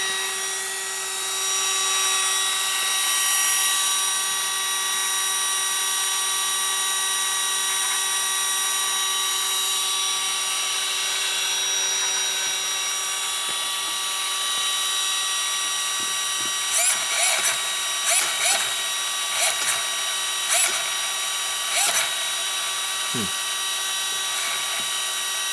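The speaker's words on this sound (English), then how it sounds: "That is a loud fan." Loud motor heat sink fan on an RC desert racer whines steadily and close for the whole stretch, with several brief clicks and knocks near the end.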